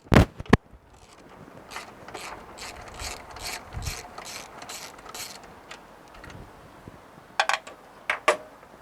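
A 12mm ratchet turns a bolt on a Mitsubishi 3000GT, making a rapid run of close metallic clicks over a few seconds, followed by a few louder clanks of the tool against metal.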